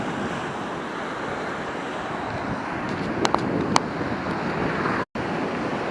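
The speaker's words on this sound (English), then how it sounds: "Able to get through pretty easy and enjoy the surf here." Ocean surf washes onto a beach near Rodanthe Pier in a continuous, fairly loud roar, with wind buffeting the microphone and a brief dropout near the end.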